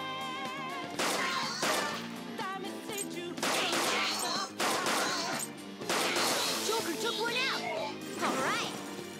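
Gun attack in a Persona 5 Royal turn-based battle: bursts of shots and crashing hits ring out over busy battle music, with a voice speaking in places.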